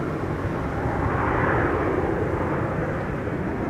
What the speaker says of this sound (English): Emirates is coming in from Dubai, flight 145,